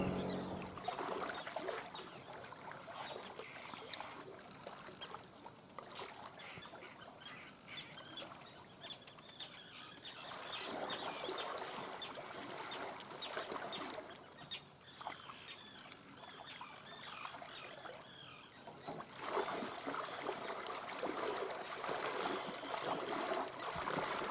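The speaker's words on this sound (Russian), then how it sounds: "Сейчас я перетащу эти лодки" Boats scrape and thud as they are hauled along, a continuous rough rasping with splashy patter from nearby water, no talking.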